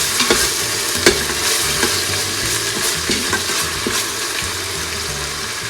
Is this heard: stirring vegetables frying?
yes